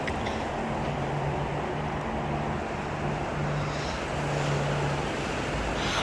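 A strong windstorm roars steadily and loudly, buffeting the microphone in a continuous, unbroken rush with no talk.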